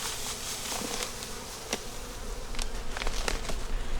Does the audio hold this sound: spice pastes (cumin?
no